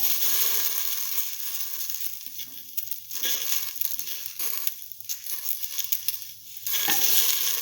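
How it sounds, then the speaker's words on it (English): Okra pieces fry in a pan for a few seconds, a continuous broadband sizzle with crackly texture that swells and dips slightly, close by and fairly loud, with no voices. "Now put in the okra pieces."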